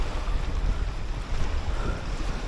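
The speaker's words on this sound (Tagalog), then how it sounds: "Malakas ang alon." Strong sea waves wash against a rocky shore, a low rumbling surge with wind buffeting the microphone, steady and fairly close, no talk.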